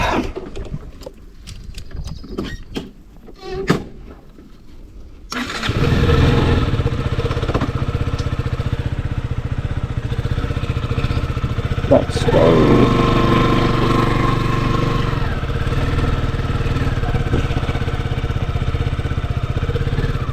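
A KTM RC motorcycle engine catches after a few quiet clicks and settles into a loud, close, steady idle, a continuous rumbling thrum with a brief blip partway through.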